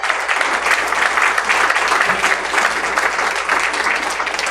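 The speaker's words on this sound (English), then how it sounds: "Give her a round of applause." A crowd applauds steadily at a city council candidate forum, dense clapping filling the space without a break, loud and sustained for the whole stretch with no voices standing out.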